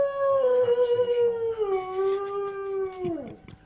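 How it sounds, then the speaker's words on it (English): A dog howls on a podcast intro, one long sustained wavering howl that slides slightly downward and drops off at the end, close and loud with no talking. "that howl has become a bit of a marker for us on the intro"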